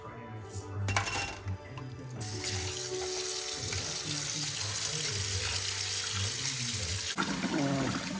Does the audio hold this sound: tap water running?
yes